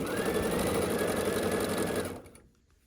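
Sewing machine stitching quilt rows together, a fast steady mechanical whir close up that runs for about two seconds and then stops and fades out.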